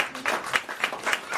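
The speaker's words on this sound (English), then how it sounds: "Give him a round of applause on that part." A small audience at a Pan-Africanism lecture gives a round of applause, a handful of distinct claps at a steady, slightly uneven pace, mid-distance and modest in volume.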